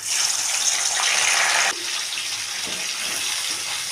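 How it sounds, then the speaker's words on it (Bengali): Paneer pieces fry in hot oil in a kadai with a loud, close, hissing sizzle that drops to a softer steady crackle partway through, with no talking. "আমি এবার পনিরগুলোকে ভেজে নেব।"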